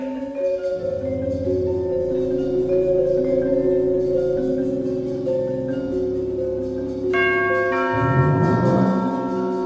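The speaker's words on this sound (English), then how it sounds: "The garage chimes and the door rolls up." A garage door chime rings out in a rainy-day audio drama, sustained harmonic bell tones layered and overlapping for several seconds, swelling brighter near the end as the tones ring clearly with no voices.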